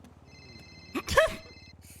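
A phone rings in the GTA roleplay game NoPixel, a steady electronic ring running behind a brief burst of noisy activity midway, with no talking.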